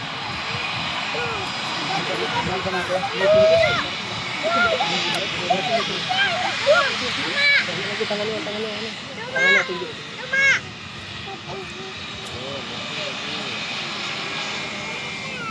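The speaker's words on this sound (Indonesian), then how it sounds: "Penumpang lagi, dia mau terbang. Kencang terbang." A passenger airplane near the runway at a spotting site in Pekanbaru roars loudly and continuously as it takes off, with children and adults chattering over the engine noise.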